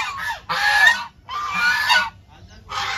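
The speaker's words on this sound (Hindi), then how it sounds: "देखो भाई डक्स भी है काफी" Ducks at a farm in Gurgaon, giving loud, harsh honking quacks in three bursts with short gaps between them, close by and with no talk over them.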